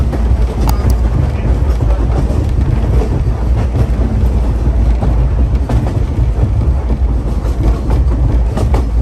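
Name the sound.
train travelling on rails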